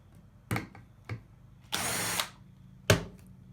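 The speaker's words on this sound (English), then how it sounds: "but can I use a drill? You sure can." A power drill drives a threaded insert into wood in short bursts: a few brief clicks and a trigger blip, then a sustained whir of about half a second and one more sharp burst, all close and without speech.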